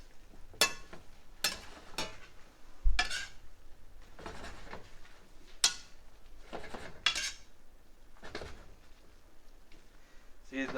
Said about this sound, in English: You just want to mix everything together.